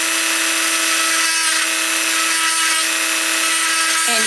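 Power drill running steadily while boring glass doll eyes, a loud continuous high whine with a constant motor tone that briefly dips and shifts pitch near the end, close up and alone.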